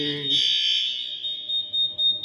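A fire alarm set off by activating a manual call point at address 77 sounds with a loud, steady high electronic tone held without a break, and a brief low voice is heard at the very start.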